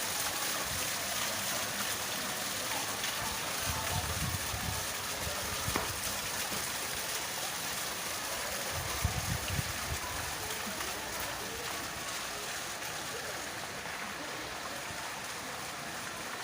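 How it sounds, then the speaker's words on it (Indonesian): An artificial waterfall in a family park near Semarang gives a steady, fairly distant rush of falling water that holds evenly throughout, with faint low rumbles now and then. "Di depan ada taman air terjun buatan yang cukup bagus."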